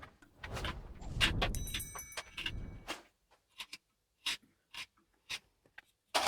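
A knife carves the face of a life-size wooden statue. A dense stretch of scraping and shaving strokes gives way to a series of short, separate cuts spaced by near silence, all close and fairly soft.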